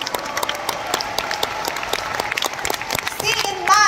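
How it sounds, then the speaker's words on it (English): Audience applause for Vietnamese guests at a Riway International team training course, a scattered patter of claps with a voice cutting in near the end. "Can we give our Vietnamese brothers a round of applause today?"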